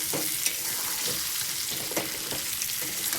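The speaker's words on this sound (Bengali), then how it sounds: "1 থেকে 2 মিনিটের মতন একটু নাড়াচাড়া করে নেব।" Chicken biryani ingredients, including potatoes, stirred and frying in a pan over a high gas flame: a steady sizzle throughout with scraping stir strokes at intervals, close and alone.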